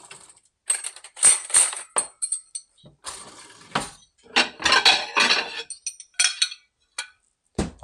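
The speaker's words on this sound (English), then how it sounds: "I'm cooking bacon and eggs here." Pans, cutlery and dishes clinking and clattering while bacon and eggs are cooked, with irregular bursts of metallic knocks and scrapes close by, some sharp and bright, separated by short quiet gaps.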